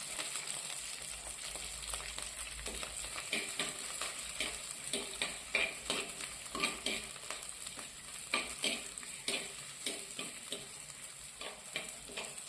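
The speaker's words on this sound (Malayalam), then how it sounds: "വെളിച്ചെണ്ണ ചൂടാകുമ്പോൾ കറിവേപ്പില ചതച്ചു വെച്ച ഇഞ്ചി ഇട്ട് കൊടുക്കാം" Curry leaves and crushed ginger fry in hot coconut oil, giving a steady crackling sizzle broken by irregular sharp pops and spatters, with a utensil stirring and scraping the pan now and then; no one speaks.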